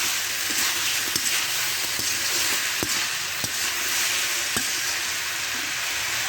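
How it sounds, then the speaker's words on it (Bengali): Boiled potatoes and kohlrabi sauté in oil for a fish curry, giving a steady, close sizzling hiss broken by scattered clicks and taps of stirring, with no talking. "এভাবে আমি 2 মিনিটের মতো কষিয়ে নেব।"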